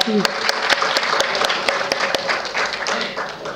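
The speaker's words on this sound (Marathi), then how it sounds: "सरांसाठी जोरदार टाळ्या." Applause from a lecture-series audience in Ahmednagar, a dense steady wash of many hands clapping for a doctor after his talk, loud and sustained throughout.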